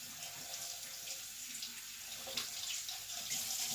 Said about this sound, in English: you have got to wash your celery.